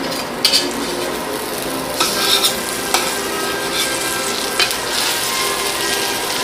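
Battered pieces of banana bread fry in a pan with a constant loud crackling sizzle, punctuated by a few sharp clicks and scrapes of a utensil against the pan, no talking.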